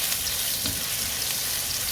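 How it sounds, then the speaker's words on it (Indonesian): Garlic sizzles in a little hot oil in a wok, a steady crackling fry with a brief stirring scrape, close and alone without talk. "panaskan wajan, tambahkan sedikit minyak, masukkan bawang putih, ditumis sampai harum"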